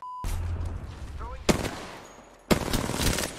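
Rapid automatic gunfire from the video game Apex Legends, loud and close, cut into separate bursts with brief gaps between them, plus sharp shot impacts.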